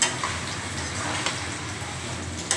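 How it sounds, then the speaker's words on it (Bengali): Spice masala frying in hot oil while being stirred for an egg omelette curry, a steady close broadband sizzle with faint scraping and no talk. "মশলা দেওয়ার পরে কষিয়ে নিয়েছি"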